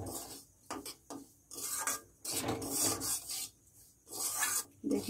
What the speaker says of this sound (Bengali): সুজিটাকে ভালো করে সবসময়ের জন্য এরকম নাড়তে হবে, নাড়ে নিচে জমে যেতে পারে।